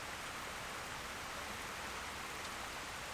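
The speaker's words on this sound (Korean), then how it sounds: "먹구름이 몰려들면 비가 내리기 마련이죠." Rain falls in a mountain valley as a faint, even hiss that holds steady and unbroken from start to finish.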